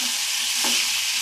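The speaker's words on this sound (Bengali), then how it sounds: "এবার আমি একটুখানি নাড়াচাড়া করে দেবো।" Potatoes fry in a pan as they are briefly stirred, a dense steady sizzle with one soft scrape of a spatula partway through, close and brief.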